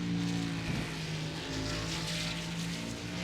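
A race car at Watkins Glen in iRacing, its engine droning steadily as the driver throttles back up after sliding sideways through a turn.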